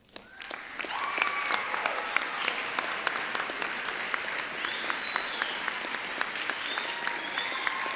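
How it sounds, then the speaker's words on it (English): Standing graduates and guests applaud the school staff at a graduation ceremony, a dense, steady round of clapping from a large crowd that swells in quickly and holds evenly, with a few sharp individual claps standing out. "giving all the staff a round of applause"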